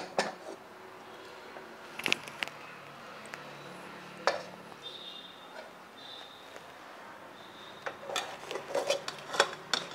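Metal clanks and scrapes as a cooled pressure cooker holding crab ghee roast is opened, a few sharp knocks spaced out over a quiet room, then a cluster of clatters near the end.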